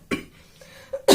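A woman gives a few short, close coughs, sharp bursts with brief pauses between them.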